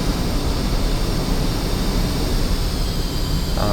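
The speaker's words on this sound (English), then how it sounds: "A couple of Drake and MiG-21s down there, coming and taxiing into our spot." MiG-21 jets taxi in a VR flight simulator game, a broad, steady roar of engine noise holding at constant loudness throughout, with no other sounds breaking through.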